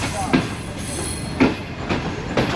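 Shalimar Express train pulling into Faisalabad railway station, a steady low rumble of rolling stock with periodic clanks from the wheels passing rail joints, close and continuous, with faint voices in the background.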